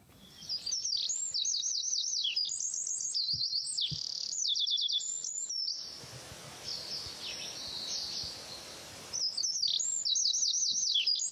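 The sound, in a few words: common chaffinch song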